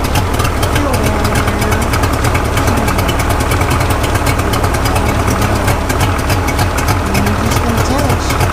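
A 1990s Mercury 75hp three-cylinder outboard motor runs steadily at idle, a loud, continuous throbbing drone that holds through the whole stretch with no breaks.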